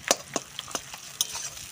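Rohu fish head being stirred and broken up with fried onions in a pan, giving a series of sharp, irregular spoon scrapes and taps over a soft background sizzle.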